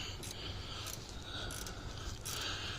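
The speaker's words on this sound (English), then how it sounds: "I've got a ratchet wrench that works just perfect for this" Ratchet wrench loosening a part during repair work on a family hauler truck, giving several short bursts of rapid clicking close by over a steady background hum, with no talk.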